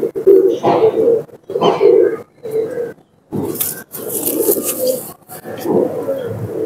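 Pigeons coo in close, repeated bursts of soft throaty murmuring separated by short pauses, with some scraping and a few brief chirps in the later part.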